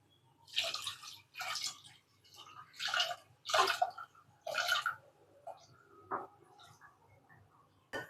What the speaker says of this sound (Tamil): தண்ணி ஆட் பண்ணிடலாம்.